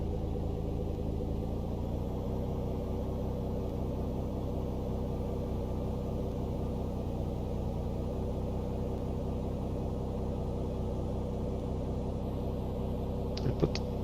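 A Toliss Airbus A321 engine spools up in the X-Plane 11 flight simulator, a steady low droning hum that holds level throughout, with a faint click near the end.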